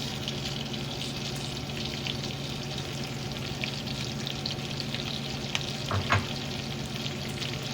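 Sweet pepper and onions frying in a pan in a hotel-room kitchen for steak and shrimp fajitas, a steady close sizzle and crackle throughout with a couple of brief clinks near the end.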